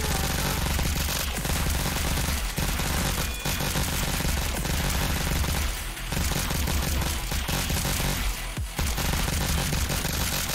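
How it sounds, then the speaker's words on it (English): Rapid gunfire from two burst-fire guns in the VR rhythm shooter Pistol Whip, a dense, loud, nearly continuous barrage broken by a few brief gaps, layered over the game's pounding music. "Two burst fire guns with that."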